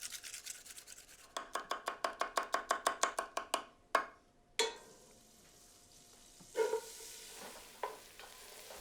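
Onions and garlic are chopped on a board for a spinach lasagna. A fast, even run of knife strokes gives way to a few sharper single chops, followed by softer scraping and stirring sounds.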